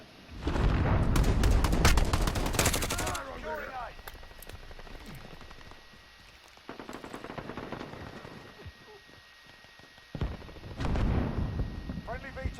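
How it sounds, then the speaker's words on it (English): Heavy explosions from a cruise missile strike in the video game Modern Warfare, loud rumbling blasts that open the stretch, then quieter crackling debris, then another burst of blasts near the end. No talk. "Allied cruise missile away."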